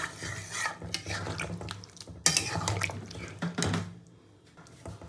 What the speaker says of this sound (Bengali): এই গরম জলটা এবার মাটনে দেবো